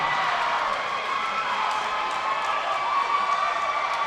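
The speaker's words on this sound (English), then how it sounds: "The crowd roaring here at George Rogers Clark." A crowd of about 20 to 25 West Jessamine students roars steadily at a high school volleyball match against Notre Dame at George Rogers Clark, a sustained wash of cheering and shouting in a gym.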